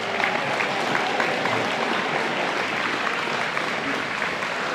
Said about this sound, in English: Please stand and applause for them